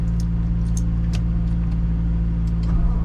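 A vehicle creeps forward in slow, congested traffic near a receiving yard, its engine a steady low drone with faint clicks and rattles on top.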